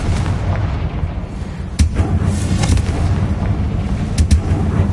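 A Confringo blasting spell explodes in the Hogwarts Legacy video game amid loud, continuous booming and crackling combat noise, with a few sharper blasts standing out.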